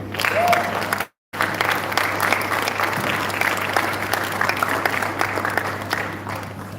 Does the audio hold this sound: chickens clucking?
no